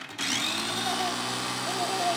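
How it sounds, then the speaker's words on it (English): A Cuisinart immersion blender pureeing carrots for homemade baby food, a steady loud motor whir that starts suddenly and holds an even drone throughout. "this is the Cuisinart Immersion Blender, and it's really great, and you can just like zhuzh it"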